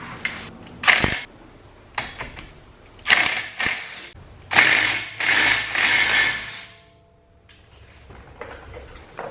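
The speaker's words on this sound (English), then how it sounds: "I'm going to remove these 17mm bolts right back here" Ratchet wrench loosening the 17mm rear bolts on a front brake caliper, wheel removed, during a pad and rotor job: several close bursts of rapid metallic clicking, with short pauses between them and no talking.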